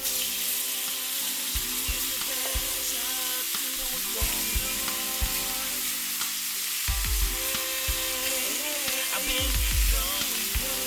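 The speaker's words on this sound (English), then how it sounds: "Put me a little butter in here. See, it's getting real hot. And I'm gonna get my beef on in here." Beef sizzles in hot butter in a pan: a steady, bright crackling hiss that goes on throughout, with occasional thumps and stirring clatter from the pan.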